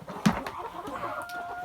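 Homestead chickens cluck softly nearby, with one brief louder squawk early on and a steady faint tonal hum running underneath.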